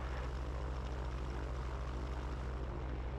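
A gyroplane's propeller engine drones loudly at close range during takeoff, a constant low throbbing hum without pause.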